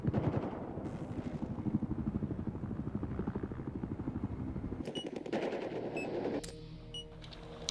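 Helicopter gunfire in the Battlefield Hardline video game: a dense, steady stream of rapid automatic shots with a rotor-like drone runs for about six seconds, then drops to lighter scattered effects and tones near the end.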